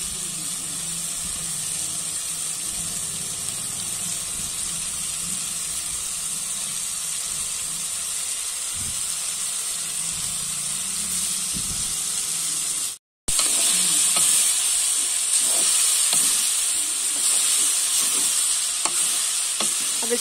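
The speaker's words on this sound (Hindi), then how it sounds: "अब इसको अच्छी तरह से चला लेंगे।" Vegetable chow mein noodles sizzling and hissing loudly in a hot pan on a street-style stove while being stirred, a steady frying roar with scraping spatula strokes and a brief cut in the middle.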